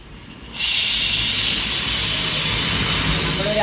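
A pressure cooker cooking millet herbal kanji lets out a loud steam whistle that bursts in after half a second and continues as a steady, close, roaring hiss.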